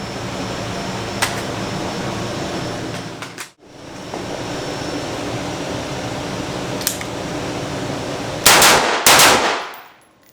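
An Ensio Firearms KAR-21 rifle fires a handful of sharp shots at an outdoor range, with a clustered double shot near the end over steady background noise.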